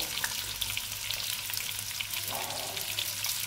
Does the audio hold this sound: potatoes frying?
yes